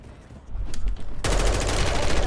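Sustained, dense automatic gunfire in a military shooter video game erupts suddenly after a quieter stretch and then continues loud and unbroken, rattling steadily through to the end.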